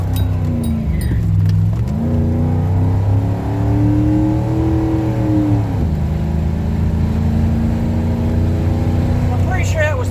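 A Ford F-150 pickup truck's engine revs up under hard acceleration on the road, a loud steady drone rising in pitch through gears with a brief shift dip, continuous and close from inside the cab.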